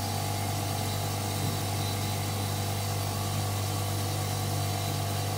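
Hotpoint Supermatic De Luxe 9414W twin tub washing machine on its spin cycle, a steady loud motor hum with strong low tonal drone and constant vibration throughout, no talking.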